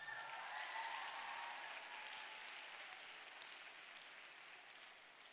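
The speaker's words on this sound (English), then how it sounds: "I think I deserve a clap." A faint, distant crowd gives a steady patter of clapping during a speech, a soft, even wash that slowly tapers off.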